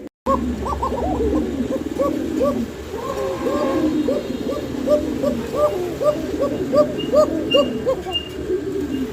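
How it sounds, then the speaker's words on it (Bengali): A black Koka pigeon calls in a long run of rapid, bubbling coos, close by and steady, with more birds chirping faintly in the background and someone talking now and then. "বুঝতে পারতেছেন এটা কি ডাকটা দিছে দেখেন এটা কিন্তু কালো রঙের একটা কোকা কবুতর"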